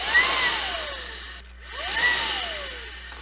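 A Makita 18-volt handheld blower fitted with a sprayer-style nozzle runs in two steady bursts of broadband airy rushing with a whining tone that sweeps down in pitch, dropping briefly in between, close and loud.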